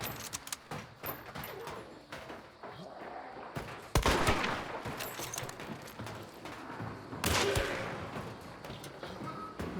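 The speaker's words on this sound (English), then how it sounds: "they were definitely shooting at me" Enemy gunfire in a first-person shooter video game arrives as sharp, rapid bursts of shots over busy game noise, with two louder blasts standing out partway through.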